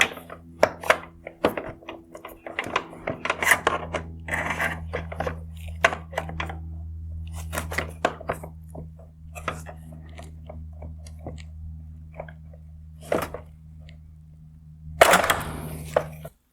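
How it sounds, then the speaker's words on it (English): Pliers work at the plastic top mount behind the projector of a 2019-2021 Lexus GX460 triple LED headlight, giving close, sharp clicks and snaps in irregular bursts, with a louder pop near the end. "I'm going to use a pair of pliers to try to pop off the top mount from behind the projector."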